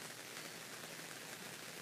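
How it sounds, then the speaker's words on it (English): Rain falls outside as a faint, even hiss with soft patter, steady and distant throughout. "if you can hear that, that's proof that it's raining."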